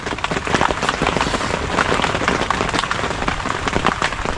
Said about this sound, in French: Vent, pluie,